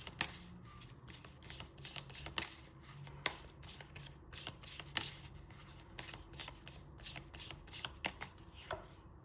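Tarot cards being shuffled in a steady run of crisp riffling flutters and soft slaps, close and fairly quiet, with no voices.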